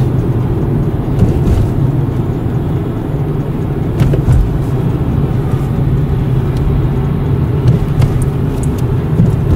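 Steady road noise and low rumble from inside a 24 kWh Nissan Leaf electric car climbing a hill behind a KamAZ truck, loud and continuous with faint clicks and no talking.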